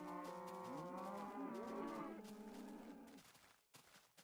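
Cows moo in Minecraft PS3 Edition, several overlapping, wavering bovine calls layered together for about two seconds, then fading into background game noise.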